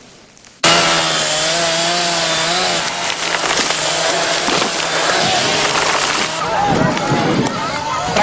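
Chainsaws cut wood in a forest near a village, a loud, close, continuous engine whine with shifting pitch as the blades bite. Voices can be heard faintly beneath it.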